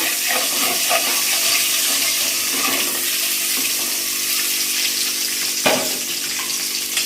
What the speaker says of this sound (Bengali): তো এখানে শুধু আমি ডিমগুলো হলুদ ছাড়া শুধু নুন দিয়ে ভেজে যাচ্ছি